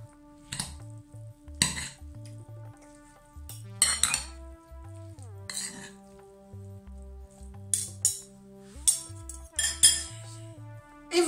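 Cutlery scraping and clinking inside a pot as vegetables and squash are stirred together in a steam cooker, repeated short metallic strokes close by, with a steady low hum in the background and no talking.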